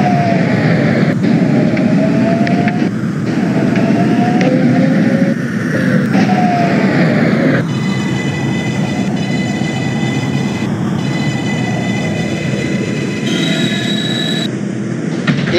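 A Manhattan-bound 6 express subway train in OpenBVE rumbles loudly and steadily, with faint wheel squeal and a run of electronic tones in the second half.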